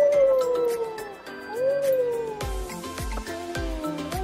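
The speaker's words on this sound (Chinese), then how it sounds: "这只是陨石边牧" A merle border collie at a Bangkok pet expo gives a drawn-out, wavering howl-like whine in two rising and falling pulls, followed by soft repeated thumps amid the busy hall.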